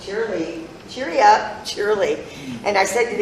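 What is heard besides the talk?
None of the usual background noises is heard.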